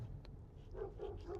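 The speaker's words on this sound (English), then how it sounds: "I think the dogs are following me" Dogs barking while chasing a car, faint and distant: a few short yips and barks in quick succession over low engine and road rumble.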